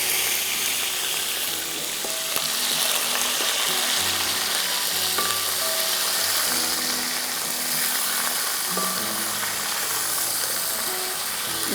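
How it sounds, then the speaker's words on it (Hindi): One kilogram of chicken sizzles and fries steadily in a pot for biryani, a loud continuous crackle with occasional stirring and metallic scraping, no voices. "इसको हमें 5 मिनट फ्राई करना है जब तक कि चिकन पिंक से वाइट हो जाए।"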